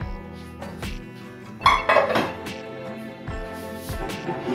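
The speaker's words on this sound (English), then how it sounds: "Next, we can place the normal pans." Metal pans set down on a biomass cooking stove, giving several clanking, ringing metallic knocks and scrapes, with a brief cluster of clattering contacts near the middle, close and fairly loud over a low background hum.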